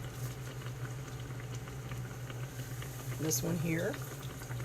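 Fry bread sizzling in hot grease, a constant crackling bubbling patter with a low hum underneath, while a voice briefly speaks over it.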